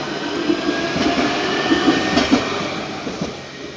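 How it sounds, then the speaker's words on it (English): Luas tram in Dublin rolling past on the line, a steady rumble of wheels on rail with soft clacks and a faint metallic whine, fairly near and unbroken, no talk. "noise of the Luas takes over"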